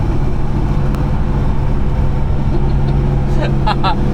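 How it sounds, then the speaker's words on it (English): Cars lapping a race track, a steady low engine rumble that stays loud and constant throughout, with a brief higher whine rising near the end. "More cars approaching."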